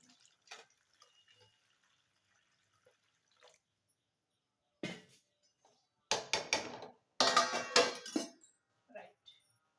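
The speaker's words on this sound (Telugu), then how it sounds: "వాటర్ పోసేసి" Water is poured into a cooking pot in a few quiet splashing bursts, soft and close, with scattered faint clinks and a near-silent lead-in.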